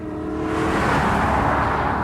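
A Mercedes CLK 500 engine pulls hard under full throttle, a steady loud broadband roar holding for about two seconds with no speech over it.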